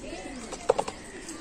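Lively pigeons at a farm give a quick cluster of two or three soft coos close by, set against a faint, quiet background.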